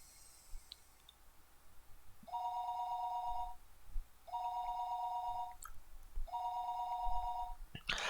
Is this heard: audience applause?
no